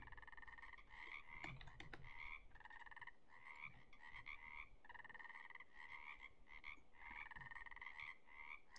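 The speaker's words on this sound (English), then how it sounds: "we might see a frog" Frogs croak in a pond in the video game Russian Fishing 4, a dense repeating chorus of rhythmic croaks in steady bursts, faint and continuous with no voices.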